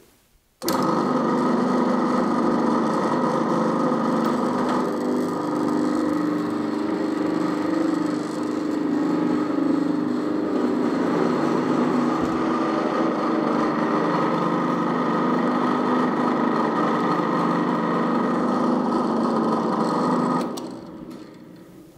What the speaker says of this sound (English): See if these cheap taps are any good.